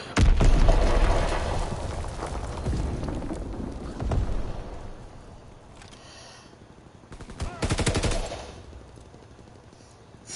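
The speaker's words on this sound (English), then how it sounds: "Enemy bomb incoming. Get to cover." Heavy explosions and rapid gunfire crash through a video game battle, a loud booming burst up front fading into scattered shots and another blast-like surge later, with no talk.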